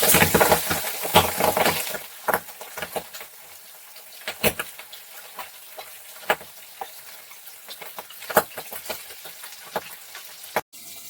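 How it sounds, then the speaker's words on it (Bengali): Pabda fish spatter and crackle in hot oil in a pan, with dense popping early that thins into scattered sharp pops and spits over a low steady sizzle. "মাছ এত পরিমাণে ফাটছে"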